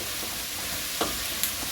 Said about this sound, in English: So we have chicken frying here, vegetables frying off here.